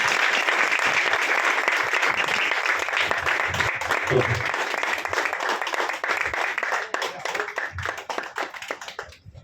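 A crowd at a Ganesh devotional event applauds honourees with loud, dense clapping that carries on steadily and then thins and fades toward the end.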